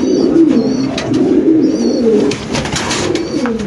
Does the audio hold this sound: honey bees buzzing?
no